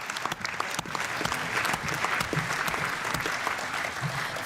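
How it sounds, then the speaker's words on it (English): Conference audience at a party campaign event cheers and applauds steadily, a dense wash of clapping with scattered whoops filling the hall at moderate distance. "Big cheer for Karen, please."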